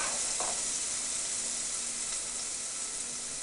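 Minced garlic browns in a hot pan for a pasta sauce with chicken, giving a steady, close, even sizzling hiss that holds without break and has no talk over it.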